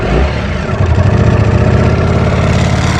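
A Lamborghini Streetfighter STO motorcycle, engine running only two cylinders in neutral with revs capped at 5,000, gives a steady low rumble that swells slightly as it revs. The engine is close and loud, and no voices are heard.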